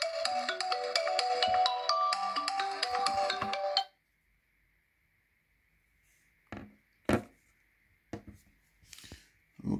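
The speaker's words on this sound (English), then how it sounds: "And it should start playing a sound." Honor X7 smartphone sounding its find-device alert: a bright, steady ringtone melody plays loudly for about four seconds and then stops abruptly, leaving faint clicks and handling noises.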